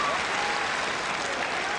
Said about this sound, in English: And a big round of applause for the man they love here